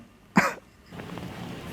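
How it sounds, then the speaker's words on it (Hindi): A man coughs once, a short close burst with a throat-clearing quality, followed by quiet room noise. "और ये तू बार बार खांस क्यों रहा है?"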